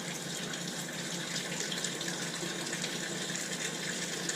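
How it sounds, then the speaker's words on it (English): Water steadily overflowing from a bait tank into its overflow pipe, fed by a half-inch inlet and a three-quarter-inch outlet, makes a continuous close gushing, splashing rush with no pauses. "You see the water's come up into that overflow, starts running over."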